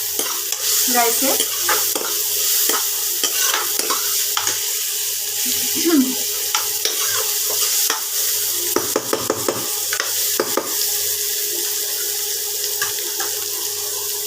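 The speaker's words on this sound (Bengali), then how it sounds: "বন্ধুরা, সবজিগুলো তেলের মধ্যে দিয়ে দিয়েছি আর সবজিগুলোকে ভেজে নেব" Vegetables frying in oil for fried rice, with a constant loud sizzle under repeated scraping and stirring strokes of a spatula, close up, and a brief spoken word at one point.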